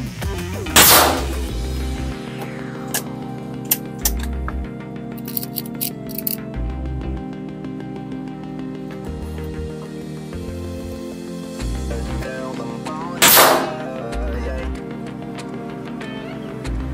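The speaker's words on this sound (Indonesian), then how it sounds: "Langsung kita tembak." A Remington PCP air rifle fires two sharp, loud shots about twelve seconds apart, set over a steady musical background.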